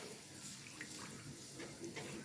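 About one and a half cups of water pour steadily into a simmering kebab handi gravy, a soft continuous splashing wash of water with no talking.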